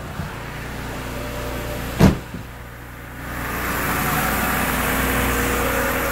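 A BMW E90 engine cranks with a brief sharp catch and fires up, then settles into a steady idle with a low even hum that grows slightly fuller and holds.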